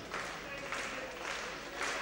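A crowd at a karate championship keeps up a slow, rhythmic handclap, with bursts of clapping at regular intervals heard at a distance in a large hall.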